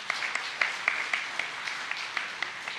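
Audience applause at a Malaysian higher education ministry New Year address, a steady wash of many hands clapping with a few sharper claps standing out, moderately distant and even throughout.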